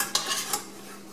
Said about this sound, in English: I'm just going to flip the turkey over using a spatula